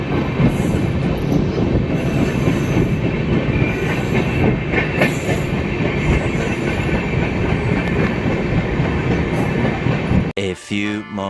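The Amrapali Express pulls out of Firozabad railway station with steady, loud clickety-clack of wheels and faint squeals, rumbling continuously for about ten seconds before a voice starts talking at the end.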